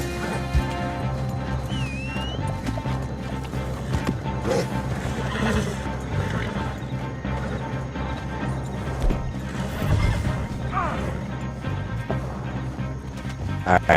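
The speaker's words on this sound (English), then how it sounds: "Come on, you dumb horse." A horse in Red Dead Redemption 2 whinnies and snorts while its hooves clip-clop steadily nearby, with thuds and crashes and a busy game soundscape around it.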